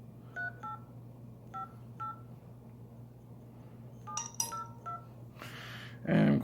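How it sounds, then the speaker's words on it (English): Series of short two-tone telephone keypad DTMF beeps from a Nokia 8 Sirocco being dialed after a screen replacement, spaced irregularly over a low steady hum, followed by a louder burst of noise at the end. "And I'm going to dial myself."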